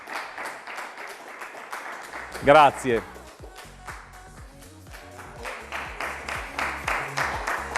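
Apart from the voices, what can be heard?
audience applause for contestants on stage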